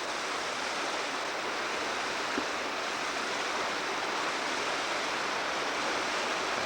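A waterfall in Colorado rushes in a constant broadband roar, steady and unchanging throughout, with no voices.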